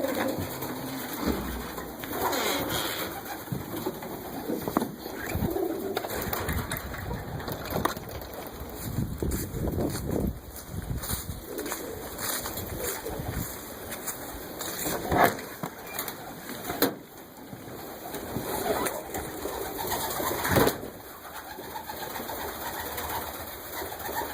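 Pigeons coo steadily indoors in a loft, with wing flutters and wooden creaks and knocks as birds shift around nearby; no one speaks.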